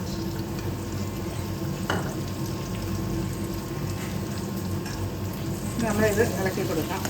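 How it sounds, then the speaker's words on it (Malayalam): A cornflour and water slurry is stirred into a sizzling pan over a low flame for garlic paneer, with a steady fry hiss and scraping stir strokes that grow busier near the end. Speech is faint underneath. "നമ്മളിത് ഇളക്കി കൊടുക്കാം."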